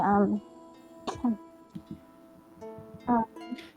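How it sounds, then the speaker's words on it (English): A person clears their throat twice with short raspy bursts, close up, surrounded by speech. "I kind of clear my throat"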